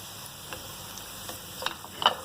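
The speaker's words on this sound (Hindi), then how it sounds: "गाजरें थोड़ी सी फ्राई हो चुकी हैं, अब हम इसके साथ ही डाल देंगे इसके अंदर ब्रोकली" Carrots and broccoli fry in a pan, giving a steady soft sizzling hiss with scattered small crackles and pops, moderately close and with no talk.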